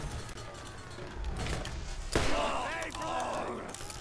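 Gunfire in Borderlands: a sharp, loud blast lands midway, followed by rougher crackling shots, with a player's voice speaking over the action.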